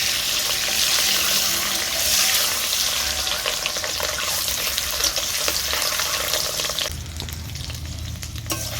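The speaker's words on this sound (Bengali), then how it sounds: "এদিকে দেখো ডিমটাকে নেড়ে চেড়ে আমি ভেজে নিয়েছি" Eggs frying in a pan for an egg masala curry, stirred and turned with a steady loud sizzle and scraping, the hiss dropping briefly near the end before continuing.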